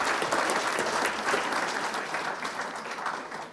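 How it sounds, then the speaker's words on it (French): An audience at a mayor's New Year address gives sustained applause, dense and even clapping from many hands, moderately distant and steady throughout, with a faint murmur of the crowd beneath. "Vous pouvez applaudir tous ceux qui sont présents"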